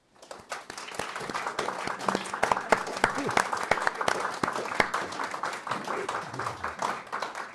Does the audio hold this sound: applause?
yes